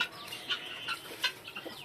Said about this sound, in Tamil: இது கிண்ணி கோழிங்க வந்து மரத்தில் ஏறுறதுக்கு ட்ரை பண்ணிகிட்ருக்கோம்